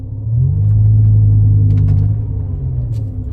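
A BMW M5 E60 pulls away in normal-mode first gear, its deep engine rumble swelling and holding steady up close before easing slightly, with no voices.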